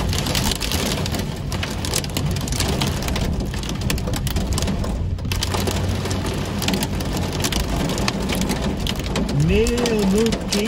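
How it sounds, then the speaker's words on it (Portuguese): Hailstones and heavy rain pelting down in strong summer wind in a town street in southern Brazil, a steady loud roar of impacts throughout, with a faint voice near the end. "quem diria no verão chuva de granizo"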